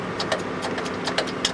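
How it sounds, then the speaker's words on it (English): A car engine runs at an event day of test and tune runs, a low, even drone with small irregular ticks and clicks over it, fairly close, and no talking. "so I've got the other engine going"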